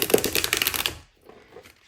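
A new deck of playing cards is riffle-shuffled once, a quick, close, rapid flutter of stiff cards lasting about a second before it stops and goes quiet.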